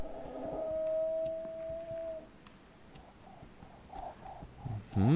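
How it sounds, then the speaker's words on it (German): Birds calling in the Sherlock Holmes: Crimes & Punishments video game, a sustained whistling tone followed by a few short calls, faint against quiet background ambience. "was sind das für hässliche Vögel?"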